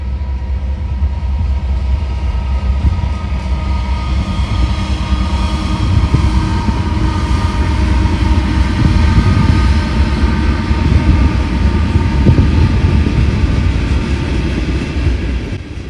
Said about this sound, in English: I would end up catching southbound mixed freight train 171